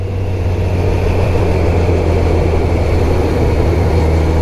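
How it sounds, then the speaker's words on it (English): A Honda CBR1100XX Super Blackbird motorcycle engine drones steadily and loudly, with a deep low rumble and rough mid-range growl sustained throughout, close to the microphone. "I love the engine braking sound off this when you're coming down."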